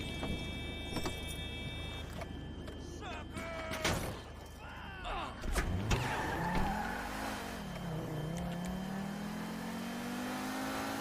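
A car engine in GTA Online revs up and pulls away, a rising then settling engine drone that carries loud and continuous through the second half after some clicks and clatter.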